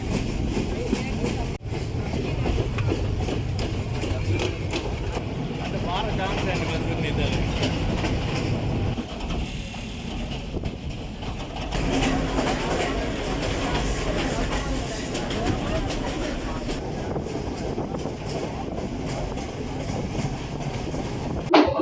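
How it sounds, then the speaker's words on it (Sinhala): The Calypso train on its maiden run from Nanu Oya to Demodara rolls along the rails with a continuous rumble and rhythmic clatter, and passengers can be heard talking over it. "මේ වගේ කැලිප්සෝ ට්‍රේන් එකක් අද මංගල ගමන අපි යන්නේ"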